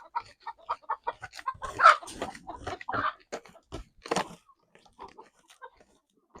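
Chickens clucking and squawking close by in short, irregular bursts, with one louder flurry partway through and quieter clucks trailing off.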